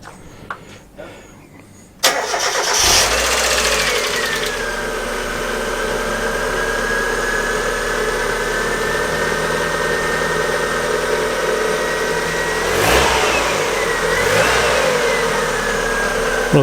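A first-generation Mazda MX-5 Miata NA cranks and fires into a loud steady idle nearby, then revs up and settles twice, after a cambelt snapped.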